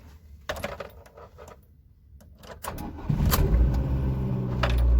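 A VAZ 2115 car engine cranks and catches after a few clicks and rattles, then settles into a steady, close idle that grows slightly louder toward the end.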